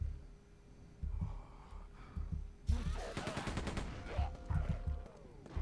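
Turret gun firing in the 1998 shooter Quake 2 Ground Zero, a loud burst of rapid repeated shots that starts midway through and runs close up, with game ambience beneath.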